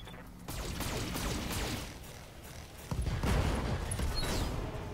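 Medium lasers fire at a mech in a video game, arriving as dense sustained crackling bursts with a louder surge partway through, close and harsh over a rumbling battlefield bed.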